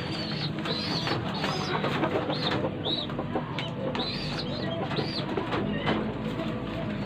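Pigeons coo repeatedly inside a homemade backyard aviary, with soft throaty calls layered over a dense, steady bed of bird chatter and nearby rustling.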